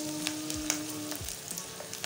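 Palm oil and onions fry for a stew, giving a steady close sizzle with scattered crackles and pops and a soft stirring scrape partway through.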